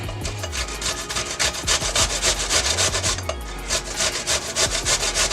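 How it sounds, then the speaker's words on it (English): Cucumber rubbed quickly against an old-fashioned grater for tzatziki makes a rapid, rhythmic rasping scrape, close and fairly loud, with strokes repeating several times a second and no talking. "we're going to simply just grate this cucumber down"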